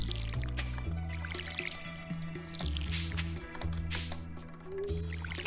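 Watering crops in the video game Stardew Valley, with soft liquid splashing and dripping effects repeating over a steady background music track.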